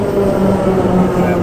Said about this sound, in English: And it sounds like a train's coming.